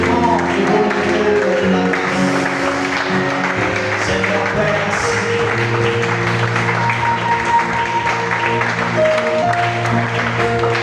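A church congregation at a midnight worship service applauds and cheers loudly without pause, the acclaim blended with sustained organ or keyboard chords and voices.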